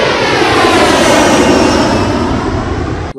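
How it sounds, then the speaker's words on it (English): A jet aircraft takes off nearby, a loud, continuous roaring engine blast that holds steady for about three seconds before cutting off abruptly. "The highest decibel measured is the takeoff of a jet within 25 meters"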